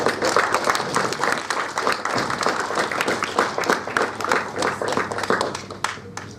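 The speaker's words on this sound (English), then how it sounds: "A round of applause." A room full of people claps steadily, a dense patter of many hands at moderate volume that thins out slightly toward the end.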